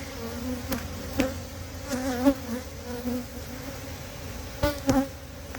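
A swarm of honey bees buzzes steadily at close range around an open hive, with a dense insect drone and occasional louder passes of individual bees near the microphone.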